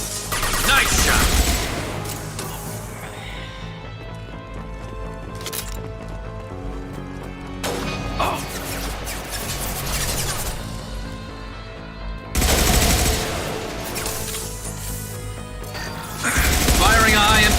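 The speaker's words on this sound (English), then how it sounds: "Firing a high-impact shot!" Gunfire from Mass Effect 2 crashes through heavy game music and effects, with loud bursts near the start, around eight seconds, at twelve seconds and at the end, while a voice talks over parts of it.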